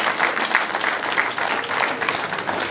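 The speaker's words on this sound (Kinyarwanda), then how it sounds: "ni mumumpera amashyi" Wedding guests give a dense, steady round of applause, many hands clapping together close by without a break.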